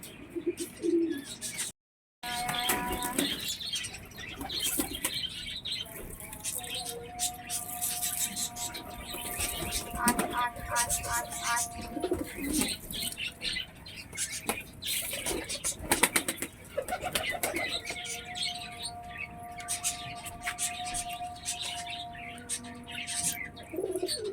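Pigeons flap their wings and coo as they leave their coop, with busy fluttering and scattered bird calls throughout, a brief dropout near the start, and no talking.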